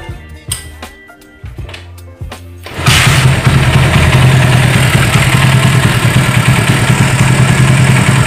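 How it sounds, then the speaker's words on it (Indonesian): Clicking and short mechanical knocks, then a motorcycle engine catches around three seconds in and settles into a steady, loud idle rumble. "kita tes langsung ya, kita nyalain motor dulu."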